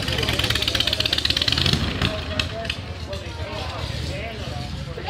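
A 1959 BSA classic motorcycle engine runs steadily and fairly close throughout, with a low rumbling idle, while people talk over it.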